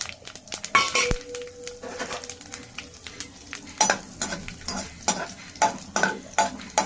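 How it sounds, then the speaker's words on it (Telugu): A tempering of cumin, mustard seeds, urad and chana dal, curry leaves and two chilies frying in oil, crackling and sizzling close up while a utensil stirs and clinks against the pan in repeated sharp bursts. "ఈ పోపు వేగిపోయింది"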